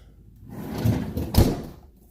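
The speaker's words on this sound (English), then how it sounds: "Then you have this pull-out drawer." A pull-out drawer on a Kenmore Elite French door refrigerator with a bottom freezer slides open, a soft rolling glide with a couple of light knocks and a firmer bump near the end, close and fairly quiet.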